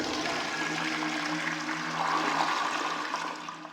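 A toilet flushing in a water closet in the video game Lorelei and the Laser Eyes, a continuous rushing, gurgling gush of water that holds steady for a few seconds and then tapers off, heard alone.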